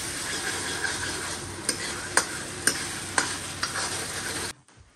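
Tadka tempering sizzling steadily in a frying pan in a home kitchen, a loud continuous hiss with a few clinks of stirring, cut off abruptly near the end.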